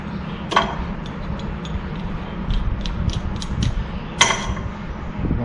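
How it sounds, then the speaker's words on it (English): A nut is run up the threaded shaft of a tractor top link, giving soft, irregular metallic ticks and light scraping clicks over a quiet, steady background. "So I'm gonna go ahead and take this nut all the way up."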